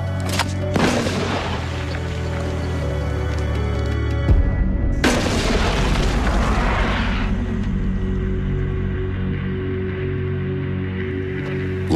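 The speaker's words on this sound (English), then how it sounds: "this one fires the grapnel and rope over 150 feet up the cliffs" A mortar launches a grapnel and rope up a tall cliff face like the one at Pointe du Hoc, giving two loud, deep booms several seconds apart, each trailing into a rushing roar and rumble outdoors.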